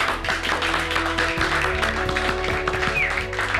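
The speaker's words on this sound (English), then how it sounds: "Give each other a round of applause." Contestants in a restaurant kitchen applaud one another, a brief burst of clapping heard amid busy kitchen background noise with faint voices.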